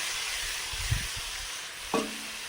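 Boiled potato and cabbage go into hot oil for a vegetarian cabbage curry, with a low steady sizzle, a soft thump near the start and a brief sharper clatter later.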